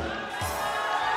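A studio audience on a Pakistani TV game show, Khel Kay Jeet, claps and cheers for a contestant who just missed by one point, a dense steady crowd roar with whoops throughout.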